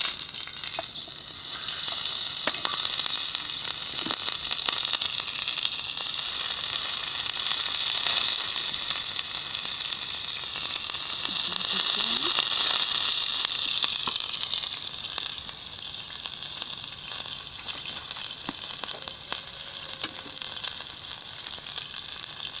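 Quelites and red onion sizzle on a very hot griddle disc, a steady bright frying hiss that swells and eases slightly, close and continuous with no talking.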